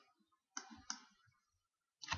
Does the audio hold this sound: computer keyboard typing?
yes